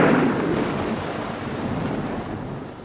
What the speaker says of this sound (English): This was followed by a clap of thunder directly overhead.